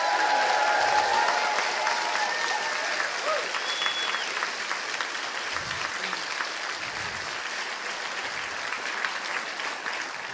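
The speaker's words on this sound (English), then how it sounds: "So a huge Colchester cheer for all of our performers tonight." A theatre audience at the Colchester Mercury Theatre gala opening breaks into loud, sustained applause and cheering that fills the whole stretch and eases only slightly toward the end.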